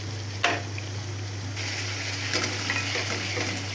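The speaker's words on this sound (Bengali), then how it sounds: "মশলাটা আমার কষানো হোক।" Spice paste sizzles and fries steadily in a pan for a Bengali curry of hilsa fish with taro root, a close continuous crackle with occasional stirring scrapes and a low background hum, no voices.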